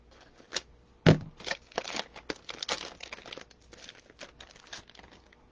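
Plastic cover being cut and pulled off a wreath sign makes quiet, close crinkling and crackling with scattered sharp snips and rustles over a few seconds.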